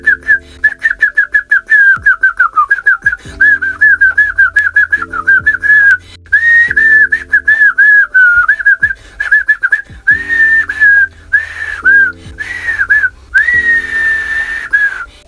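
A person whistles a tune from the film Kill Bill, a loud, close, bright melody of short repeated phrases and sliding notes over a sparse, rhythmic backing.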